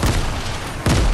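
A grenade going off in Fortnite: a loud, close boom with a rumbling tail, then a second sharp blast hitting just before the end.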